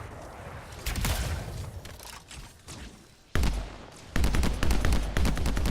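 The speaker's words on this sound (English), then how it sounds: "It's a rapid fire sniper rifle." Rapid-fire sniper rifle in the Anthem video game, loosing quick bursts of sharp shots, scattered at first then a dense close volley after a brief pause, loud and alone.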